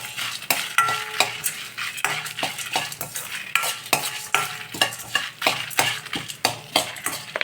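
Dried red chillies and lentils fry in hot oil in a pan while a utensil stirs them, giving a steady close sizzle broken by regular scraping strokes throughout.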